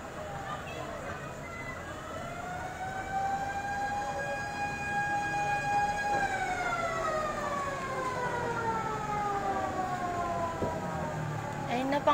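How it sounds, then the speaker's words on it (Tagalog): A fire truck siren wails at a residential house fire in Quezon City, its long rising and falling tone sustained and swelling closer over the street's background noise. "Ayun na, pangalawang bombero na ata to. Or ambulansya."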